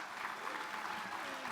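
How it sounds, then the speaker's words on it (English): An audience breaks into applause, a brief dense patter of many hands clapping steadily at an even volume. "Let's give them another round of applause."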